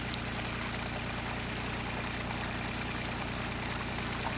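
Irrigation water flowing out on a farm, a steady broadband rushing and pouring wash with a low hum underneath, continuous and even throughout with no voices.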